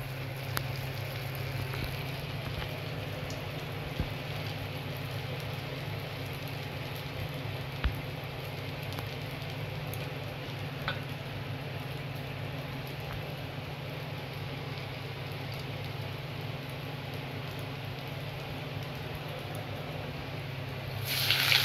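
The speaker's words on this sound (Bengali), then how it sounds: "কোটিংটা এবার তেলে আমি ছাড়ছি" Coated fish cutlets frying in hot oil at medium-high heat, a faint even hiss with light bubbling and no talk, steady throughout.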